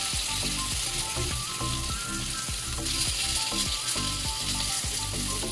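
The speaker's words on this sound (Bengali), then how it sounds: "भालो करे फ्राई हये गेछे, उल्टे नेब।" Rohu fish marinated in salt and turmeric fries in hot oil in a pan, giving a constant dense sizzle close up, with regular soft knocks from a utensil repeating every half second or so. No one speaks.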